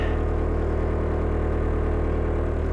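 A VW turbodiesel engine idles steadily at 1,100 RPM in a high winter idle setting, giving a continuous low rumble with an even hum and no change in pitch.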